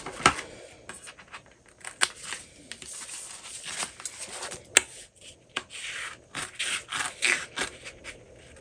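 Scissors snip a V-shaped notch into folded bag fabric, stopping just short of a freshly sewn seam, with a series of short, crisp cuts and soft rustling of the cloth close by and no talking.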